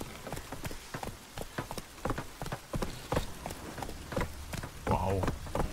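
A horse rides through a rainy village in The Witcher 3, its hooves beating a steady clip-clop over falling rain while voices talk on top.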